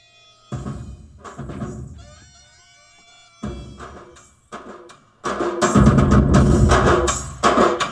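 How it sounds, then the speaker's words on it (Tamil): Music plays from a Maruti Swift car audio system, coming in bursts with pauses at first, then building into a loud, full, continuous stretch inside the car. "ஆடியோ சிஸ்டம் எப்படி இருக்குது அப்படின்னு சொல்லி இப்போ நம்ம ஆன் பண்ணி கேட்டு தெரிஞ்சிக்கலாம்"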